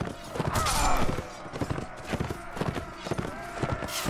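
Horse hooves galloping in the Mount & Blade Warband video game, Imperial Rome mod, a fast, steady clip-clop close by, layered over distant battle noise.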